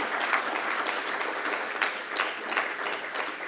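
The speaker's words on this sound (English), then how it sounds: "I think they deserve a wonderful round of applause" Guests at a donor evening clap in a sustained, even round of applause, a full room of hands at moderate volume with no talk over it.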